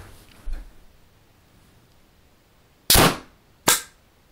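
A pneumatic paintball-style marker fires three quick shots: a faint pop near the start, then two sharp, loud cracks about a second apart, with near silence between them.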